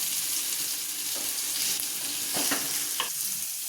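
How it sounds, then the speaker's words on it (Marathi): Onion and spinach fry in a pan for palak paneer with a constant close hiss of sizzling oil, broken by a few short stirring scrapes and knocks of a spoon; no voices. "थोडंसं लालसर होऊ देते, बाकी जास्त नाही भाजायचा आता हा कांदा"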